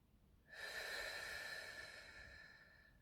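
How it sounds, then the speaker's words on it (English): A slow, deep breath drawn in through the nose during a calm, gentle facial massage, a soft, breathy rush that begins abruptly and fades gradually over a few seconds, close and alone. "take a few deep breaths in through the nose"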